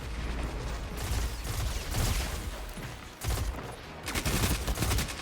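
Gunfire from a first-person video game shooter crackles in rapid bursts and overlapping volleys, dense and fairly loud, with brief pauses between clusters.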